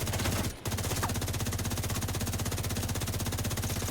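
Rapid automatic gunfire in a shooter video game, a continuous fast stream of close shots after a brief opening burst and a short gap, loud and steady with no talk.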